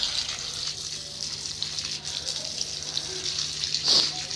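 Steady running water pours while potted plants are watered at home, a continuous close hiss with a brief splashy burst near the end.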